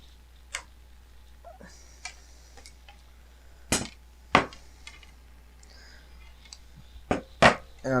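Stiff 1.4 mm music wire is bent into a Z-bend for a scratch-built trainer's control rod, giving a few sharp, scattered metallic clicks and taps, some close and loud, spaced out over quiet background.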